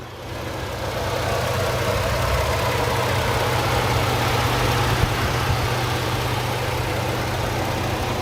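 A 3.5-liter EcoBoost V6 in a 2015 Ford Expedition EL Platinum idles with the hood open, a steady, smooth low hum that swells in at the start and holds even and quiet, without talking.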